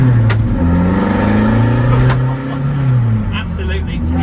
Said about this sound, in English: This one's got a decat, so it sounds just an absolute hellraiser of a car.